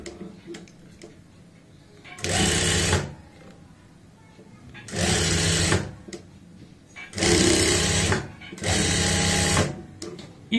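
A sewing machine stitching the seams of a tucked blouse, heard as four loud bursts of rapid mechanical whirring, each about a second long, separated by quieter pauses with faint handling ticks.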